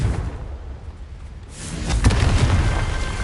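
The Confringo spell explodes in Hogwarts Legacy on PS5, a rumbling boom swelling midway out of a low roar and sustaining loud to the end, with no talk.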